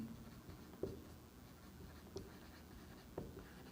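Writing on paper while explaining roster form in an NCERT class 11 maths lesson, with faint scratching and a few soft taps of the pen against low background hum.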